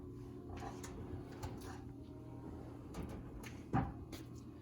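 Kitchen drawers by a bar sink roll open and shut on their slides, faint soft rumbles and light knocks with one louder thud near the end, no voices.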